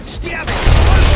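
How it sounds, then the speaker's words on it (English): Gunfire in the video game The Saboteur: a loud, dense, continuous burst of shots with heavy low rumble. "Gunfire!"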